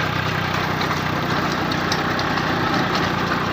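A tractor engine runs steadily under load while pulling a 6-foot rotavator through a field being tilled for onion planting, giving a continuous, loud, even drone with no talk.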